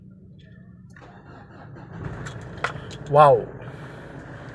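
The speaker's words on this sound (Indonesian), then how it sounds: "Suara ciri khas mobil diesel." A 2011 Ford Everest 2.5 TDCi diesel, 4x2 automatic, starts up and settles into a steady, low, rumbling idle heard close by, with a person briefly exclaiming over it.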